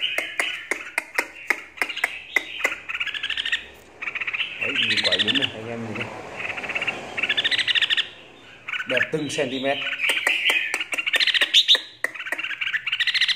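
A red-whiskered bulbul from the Lạng Sơn limestone mountains sings loud, bright, rapid chirping phrases close by, with someone talking briefly over the middle sections.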